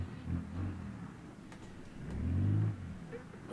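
A car engine in BeamNG.drive fires up and revs, a low rumbling swell that rises and falls twice, moderately quiet.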